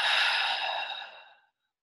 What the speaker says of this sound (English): Let's take a deep breath in together. And as we exhale, just letting that go.